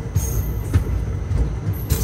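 Passenger train pulling away from Hyderabad Deccan station: a close, continuous low rumble with rhythmic thumps and rattles, heard steadily from on board.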